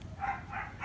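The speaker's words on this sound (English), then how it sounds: "if you guys are hearing any dog barking, that's just my neighbor's dog." A neighbor's dog barks at a distance, two short muffled barks heard faintly over a low background hum, with no voices.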